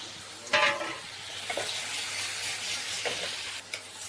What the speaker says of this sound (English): Before it burns, let's add the tomato.